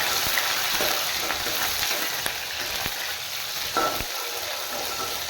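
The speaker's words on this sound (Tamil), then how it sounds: "எண்ணெய் காஞ்சிருச்சுன்னா நம்ம வெங்காயமும் பச்சை மிளகாய் போட்டுருக்கோம் தாளிக்கிறோம்" Oil sizzles steadily in a pan as onion and green chili fry, a constant crackling hiss with occasional soft pops and stirring clicks.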